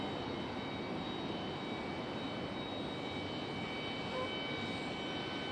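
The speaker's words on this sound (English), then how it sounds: "our next arrival is going to be the American Retrojet, the chrome livery" American Airlines Retrojet in chrome livery arriving at Raleigh-Durham airport, a steady, fairly faint broadband jet roar holding level throughout with thin whining tones above it, heard from a distance and alone.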